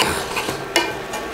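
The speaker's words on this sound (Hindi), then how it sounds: "ये एक सोप को काटा है और वो इसमें मिक्स कर रही हूँ।" A homemade milky soap mixture with a cut-up bar of soap is stirred by hand, giving soft scraping and swishing strokes in an uneven rhythm, close and fairly quiet, with one sharper knock partway through and no talking.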